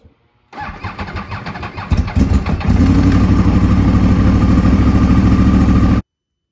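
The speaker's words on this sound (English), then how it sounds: "I'm gonna let the bike idle up to about 70 degrees on the cluster" A Yamaha R1 crossplane motorcycle engine cranks, catches and fires up, then settles into a loud, steady idle close by before cutting off abruptly.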